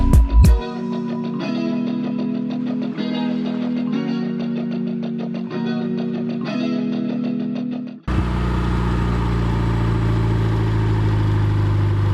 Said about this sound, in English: That sounds much more like a healthy idle.